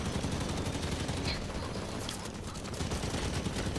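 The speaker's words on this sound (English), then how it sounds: "Where am I being shot from?" Dense gunfire fills a beach battle in the video game Halo, with continuous overlapping rifle and machine-gun bursts in a loud, relentless fusillade and no clear pauses.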